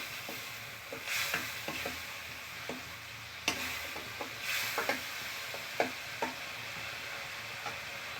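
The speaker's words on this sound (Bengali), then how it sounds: "এবারে মশলা আমি কষিয়ে নিচ্ছি।" Spices sautéing in a pan for a Bengali rohu fish curry, a steady soft sizzle broken by repeated scraping stirs and clinks of a spatula at a close distance, with no talk.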